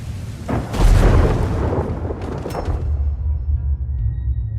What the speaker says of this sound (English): You could be struck by lightning during a storm.